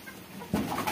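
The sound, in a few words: Sonali chickens on a poultry farm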